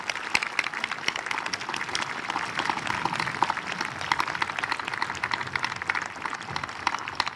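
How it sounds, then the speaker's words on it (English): Graduation ceremony audience applauding, a dense, steady patter of many hands clapping at a distance, sustained for several seconds without talk. "Let's give a round of applause,"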